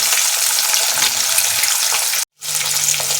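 Pieces of rui fish frying in hot oil in a pan, a loud close crackling sizzle that cuts out briefly and then resumes.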